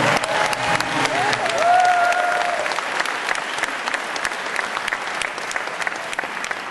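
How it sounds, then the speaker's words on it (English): A crowd applauds steadily throughout, dense clapping that holds at an even level from start to finish, with a faint voice briefly audible early on. "So I'd like us to give us a big round of applause."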